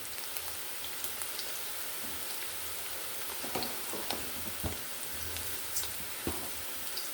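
Cumin seeds sizzle and crackle in hot oil at the start of a matar pulao, a steady close frying hiss scattered with small pops, with no talk.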